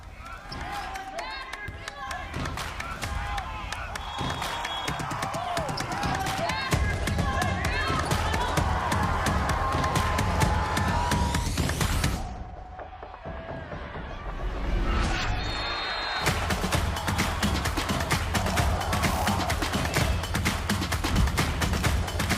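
Football crowd in the stands at Abilene, Abilene Christian against North Alabama, a loud steady roar with clapping and babble that dips briefly midway, then swells again, with an announcer's voice running over it.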